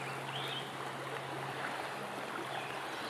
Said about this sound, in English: I've never seen the river like this violent.